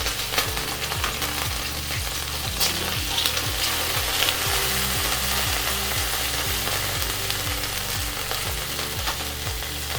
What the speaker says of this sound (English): Into the Dutch oven, we're going to add about 12 shallot onions.